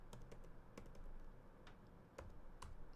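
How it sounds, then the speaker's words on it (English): Quiet, scattered keystrokes tap on a computer keyboard in short irregular bursts against a steady background hiss, with no talking. "Why am I typing Pickford?"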